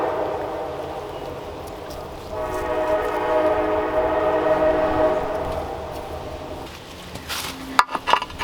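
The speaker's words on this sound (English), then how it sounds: "Now there's the train." A train passes by outdoors, a steady rumble with horn-like tonal bands that swell and hold for several seconds, then give way to a few sharp knocks and clatter up close.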